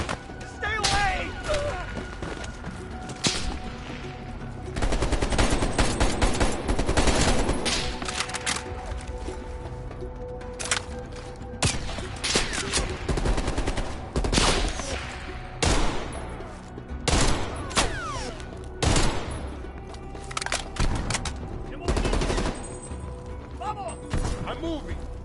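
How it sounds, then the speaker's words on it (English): Dense gunfire in a Black Ops Cold War campaign battle: rapid machine-gun bursts and single shots crackle close and loud in waves, with shouting voices over the firefight. "They're shooting at us!"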